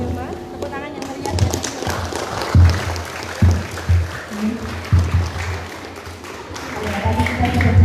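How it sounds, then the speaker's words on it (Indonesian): Audience applause at an Indonesian novel discussion event, a moderate patter of clapping in a hall with voices talking over it and a few louder hand claps standing out. "Tepuk tangan yang meriah."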